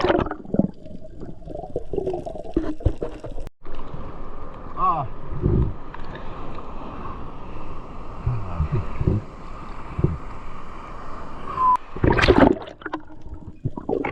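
Big sea waves rolling and breaking around a small boat, with steady wind buffeting and splashes rising and falling over about fourteen seconds, and louder surges near the end.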